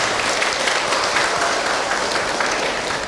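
A crowd applauds continuously, a dense, even wash of clapping from start to finish.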